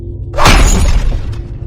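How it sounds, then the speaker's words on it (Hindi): A clay water pot is struck with an iron rod and shatters in one loud, close crash. A brief scatter of breaking debris follows, with no voices. "मटका टूट गया और उसका पानी जमीन पर बिखर गया।"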